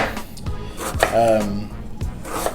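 A cheap Dollar Tree kitchen knife chops food on a board, producing several dull, evenly spaced knocks over about two seconds, close by, with a voice speaking over them.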